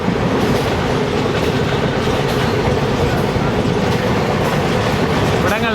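A train runs along a railway track between Neyyattinkara and Parassala near Thiruvananthapuram, making a loud, close, continuous rumble with rhythmic clickety-clack of wheels on rail joints and a brief squeal near the end.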